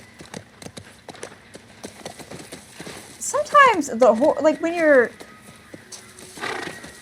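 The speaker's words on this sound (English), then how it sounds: "I feel like sometimes the horse turns in a direction that's the opposite of what I told it to" A horse ridden in the video game The Last of Us Part I, with hooves clopping and a loud whinny in the middle of the clip, mixed with game sounds while a person talks.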